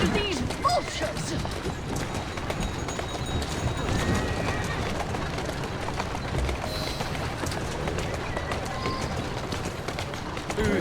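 Rhythmic horse hoofbeats clip-clop steadily at a brisk pace with occasional whinnies, over a busy Assassin's Creed Syndicate game soundscape of thuds and clatter.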